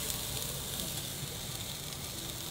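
Onions and mushrooms sizzle steadily in a frying pan on a camping stove in a VW California T6 camper van, a continuous close, even hiss with no breaks and no talking.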